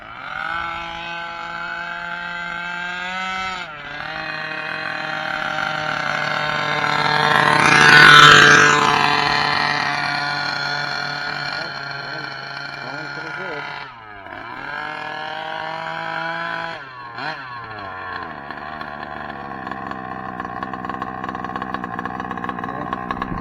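A Losi 5ive-B gas RC car's small two-stroke engine, a 30.5 cc unit, revs and buzzes continuously up close, rising to a loud peak before dropping back and revving again. No one speaks.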